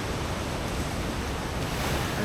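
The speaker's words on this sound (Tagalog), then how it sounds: "Ang lakas ng ampas!" Strong ocean waves at Pacifico Beach, Siargao, give a constant broadband roar of surf with wind buffeting the microphone, steady and loud throughout without voices.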